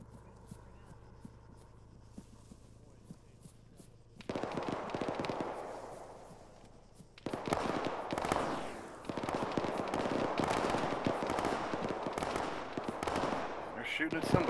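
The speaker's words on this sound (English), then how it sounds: "They're shooting at somebody" Sustained automatic gunfire in the military video game Arma played by a ShackTac group, starting after a quiet stretch and continuing as dense, rapid crackling volleys at moderate distance through the rest of the clip.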